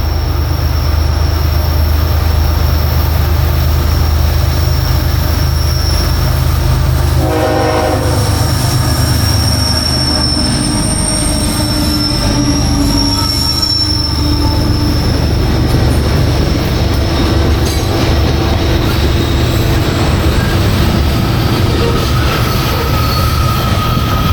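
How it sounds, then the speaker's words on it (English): A CSX freight train loaded with coal rolls past, a loud, continuous rumble of heavy cars and wheels with squealing, while a train horn sounds through the passage. "And I see the headlight. Here comes CSX."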